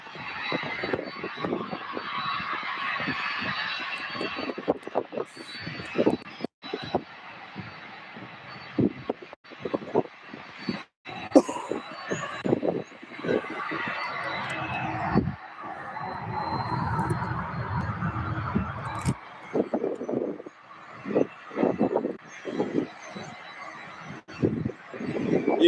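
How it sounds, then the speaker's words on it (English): A UPS cargo jet on its takeoff roll at Louisville SDF airport produces a broad, continuous roar that swells and fluctuates over about twenty-five seconds, heard from a moderate distance with no talk. "UPS 5236 bound for Richmond, Virginia. Getting its takeoff roll right now."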